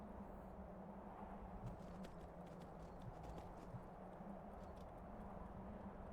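Horse hooves clop in a steady, fast rhythm during Skyrim gameplay, faint and low under a constant background drone.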